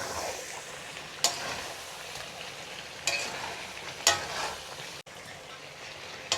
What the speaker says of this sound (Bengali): আমি এখানে আরও অল্প গরম জল দিব। আপনারা এইভাবে অল্প করে গরম জল দিয়ে মাংসটা কষিয়ে নেবেন।